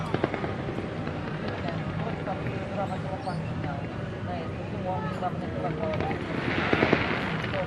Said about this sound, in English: And I think these fireworks are actually surrounding.